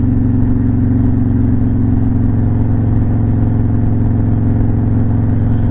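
A Harley-Davidson Road Glide motorcycle engine drones loud and steady while riding, a constant low rumble with no pauses or gear changes.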